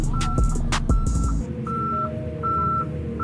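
A car's reversing alarm beeps repeatedly at a steady pace, loud and close, over a low engine rumble, working again after the reverse light bulb was replaced.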